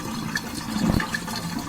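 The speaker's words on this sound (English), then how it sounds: "That's what your Miele dishwasher should drain like." Water rushing steadily out of a Miele dishwasher as it drains after a fix, a continuous gurgling flow with a brief louder surge midway, close and unaccompanied by talk.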